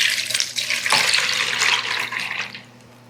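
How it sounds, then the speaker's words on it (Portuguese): Liquid soap base, already mixed with honey essence, extract, lauryl and butter, pours into a basin in one close, continuous splashy stream that thins out at the end. "Eu vou despejar essa base aqui na bacia."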